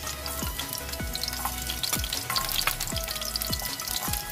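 Garlic sizzles and crackles steadily in a hot pan for chicken sisig, with soft repeated scraping or stirring knocks through the frying hiss.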